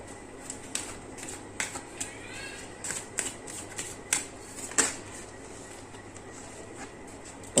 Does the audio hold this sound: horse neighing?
no